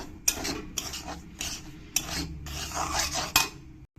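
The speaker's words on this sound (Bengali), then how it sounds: "সুজিটা দিয়ে ভালো করে একটু ভেজে নিতে হবে" Semolina toasting in a pan under repeated stirring strokes, each a short rasping scrape of the utensil across the metal in an uneven rhythm, close and fairly quiet with no voices.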